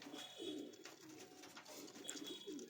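Young Andhra and Pakistani patta pigeons in a loft coo softly in low, repeated murmurs, faint and steady with a few brief bursts.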